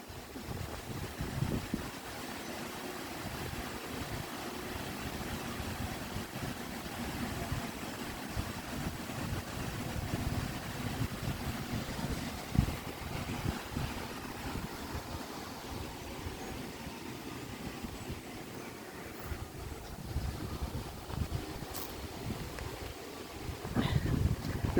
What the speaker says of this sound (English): you can hear the water flowing down